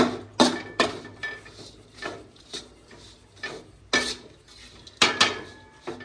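A ladle stirs gundar pak mixture in a pan: irregular loud clanks and scrapes of metal on the pan, roughly a second apart, each followed by short rubbing strokes, with no speech.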